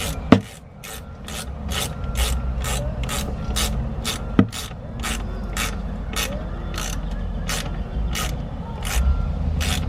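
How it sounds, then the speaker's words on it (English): A ratchet tightening a clamp on the intercooler hose of a 2018 Honda Accord, a rapid evenly spaced series of close, sharp clicks with a couple of louder knocks near the start. "put this clamp on to avoid any issues"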